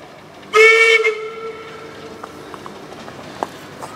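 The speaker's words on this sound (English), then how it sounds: "there's a train approaching now for Ravenglass" A steam locomotive on the Ravenglass & Eskdale Railway, the engine River Irt, sounds a loud whistle blast as it approaches, then fades into a low rumble with faint clanks.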